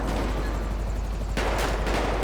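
Rapid gunfire from a mini tank in GTA V, a dense continuous burst with a sharper louder stretch near the end, loud and close with no talking.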